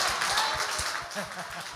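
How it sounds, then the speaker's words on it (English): An audience at a talk on artificial intelligence claps in a steady round of applause. The clapping is moderate and close, and a voice can be heard under it. "He deserves a round of applause."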